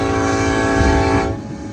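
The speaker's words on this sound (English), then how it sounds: "Now we got a Union Pacific coming up" A Union Pacific manifest train led by an SD70 locomotive passes on the main track at Cajon Pass, its horn blaring loud and close over a steady rumble before cutting off near the end.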